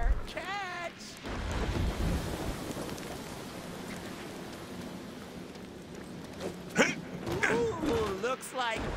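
Rain hisses steadily with low thunder rumbling in the Deadpool video game on PC. Brief voices are heard near the start and toward the end.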